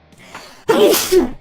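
A single loud, close sneeze bursts out after a quiet breathy wind-up, during a tabletop role-playing game session.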